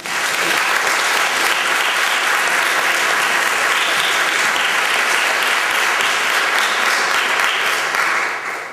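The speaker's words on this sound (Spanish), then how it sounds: "Para todos ellos os pedimos otro aplauso de gratitud." Sustained audience applause at the award ceremony of the 5th Asturian Film Festival in 2009, a dense, loud, continuous clapping from a large crowd that holds steady throughout and tapers slightly at the end.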